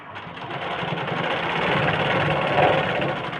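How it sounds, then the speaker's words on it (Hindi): A sewing machine runs steadily as it stitches lace onto a blouse, leaving about a quarter inch of fabric at the edge. Its close, continuous whir holds at an even level with no voices. "यहाँ से अब हमें पहले यहाँ भी सिलाई मार देना है, यानी लेस को डाल देना है इस तरह से"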